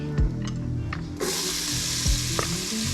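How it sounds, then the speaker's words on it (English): Onions sauté in hot oil in an Instant Pot with a steady close sizzle that suddenly grows louder and hissier, broken by a few soft knocks of stirring. "our onions are gonna saute here for 5 minutes or so until they start getting some color"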